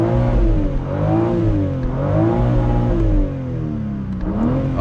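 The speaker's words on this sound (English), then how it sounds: "let's go ahead and give this thing a few good revs" A 2025 BMW M4 Competition xDrive convertible revving while pulled over, its engine rising and falling through several loud, close throttle blips before settling to a lower idle.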